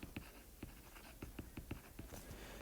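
Marker or chalk writing on a board during a lecture on the citric acid cycle, a quiet, close series of short, evenly spaced strokes and taps, with no one speaking.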